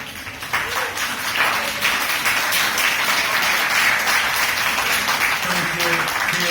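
Audience applause fills the room after a talk on podcasting, a steady dense wash of many hands clapping at once, with voices faintly audible underneath.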